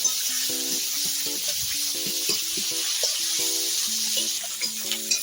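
Food frying in a pan while fish-head and bottle-gourd ghonto is cooked, a loud, continuous sizzle throughout with a faint melodic tone running underneath.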